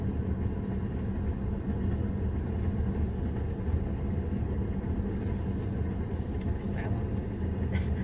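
A car drives along with a steady, close engine and road rumble heard from inside the cabin, unbroken for the whole stretch.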